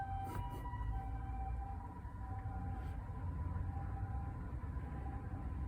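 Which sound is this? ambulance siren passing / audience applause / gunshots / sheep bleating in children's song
ambulance siren passing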